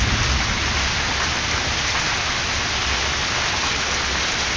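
Heavy summer thunderstorm rain pours down in a dense, continuous hiss, loud and close, heard from under a house overhang, with a low rumble underneath.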